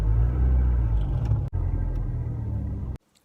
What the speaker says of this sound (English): I'm gonna take my foot off the clutch.